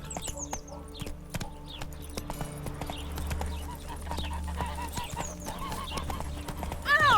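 Hooves clop in a rapid, steady gallop as a horse runs in The Witcher 3, with a sharp whinny near the end and a faint musical bed underneath.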